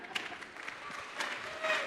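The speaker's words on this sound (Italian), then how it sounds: "Applauso per questa signora" A crowd at a Christmas greetings event in Ollolai breaks into scattered applause, fairly faint and distant, with voices talking over the clapping.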